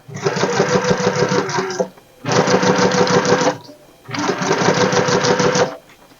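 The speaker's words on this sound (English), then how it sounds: "lift up my presser foot, find the dots inside here, and then continue sewing." A domestic sewing machine stitches fabric in three loud, steady bursts of fast mechanical whirring, each about two seconds long, separated by short pauses.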